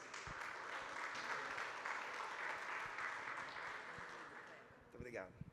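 Audience applause at a São José do Rio Preto conference welcoming a neuroscientist and campaign strategist, a steady broadband wash of many hands clapping that holds for about five seconds, then fades as a voice begins.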